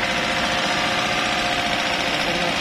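Engine of a 2012 Toyota Hilux 2500 cc, in good condition at an auction yard, revving under throttle; a steady, loud broadband roar runs throughout with no talk.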